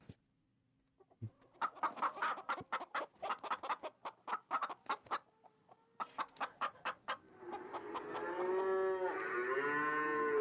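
Several cows moo repeatedly in a steady series of calls, with chickens clucking among them, building to a louder, sustained lowing near the end.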